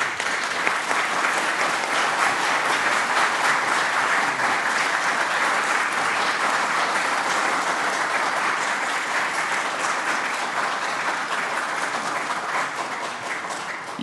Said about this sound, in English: Y'all quit clapping.